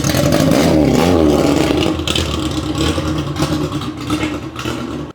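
Datsun truck with a side exit exhaust, engine revving loudly up close and then settling into a rough, choppy idle with uneven throbbing pulses before cutting off abruptly.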